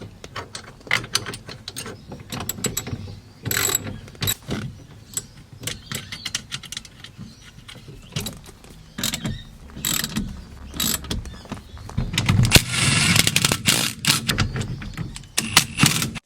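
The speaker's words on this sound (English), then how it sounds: "This is just a small impact driver that has hardly any torque" A small, low-torque impact driver works bolts on a Toyota Coaster during a brake master cylinder replacement, giving irregular bursts of rapid rattling and clicking, near and fairly loud, with a denser stretch toward the end and no talk.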